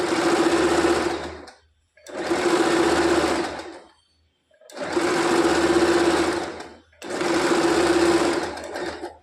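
A sewing machine double-stitches a seam on a three-piece princess-cut blouse. Four loud, even runs of rapid stitching are separated by short pauses.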